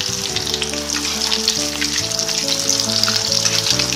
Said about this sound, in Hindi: हम फ्राई करेंगे। बीच बीच में से इनको हिलाते रहेंगे।